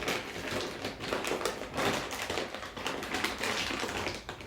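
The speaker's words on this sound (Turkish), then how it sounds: "Bayağı bir kahvaltılık gevrekten döküyoruz biraz." Dry cornflakes clatter and patter into a bowl in quick, uneven bursts, a crisp rattling pour that comes and goes.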